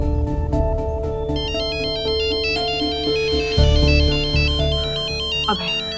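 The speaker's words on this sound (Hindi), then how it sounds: "अभय, वर्षा जी आप फोन उठाइए, स्पीकर पर डालिए प्लीज" A melodic electronic phone ringtone plays steadily for several seconds, with background music underneath.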